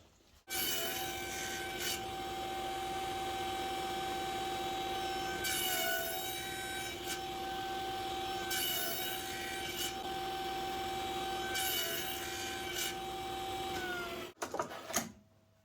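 Cutting wood for bridle joints on a Superjig 2.0 jig, a steady loud mechanical whine with recurring rasping bursts through the cut, then stopping abruptly with a few knocks.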